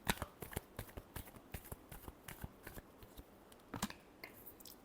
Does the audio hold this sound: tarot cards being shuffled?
yes